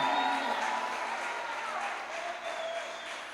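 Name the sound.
congregation applauding in church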